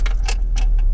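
Keys jangle as they turn in the ignition of a Mk2 VW Golf Rallye, giving a few quick, close metallic clinks in about a second inside the car.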